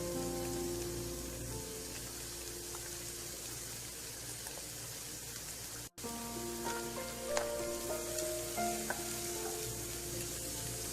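Cooked rice being stir-fried with Schezwan sauce in a hot pan, giving a steady, close sizzle with faint scraping and stirring throughout and no talking.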